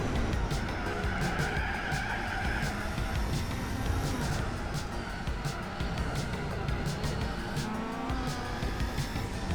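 Tires skid and scrub in Gran Turismo 4 as a Lancia race car understeers on ice-cold tires and slides off the track, a loud, continuous broadband screech over engine roar for the whole stretch.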